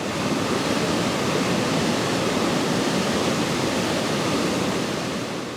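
Swollen Merced River in flood near Yosemite's western entrance at El Portal, after record rainfall, roaring in a loud, steady, unbroken wash of rushing water with no voices.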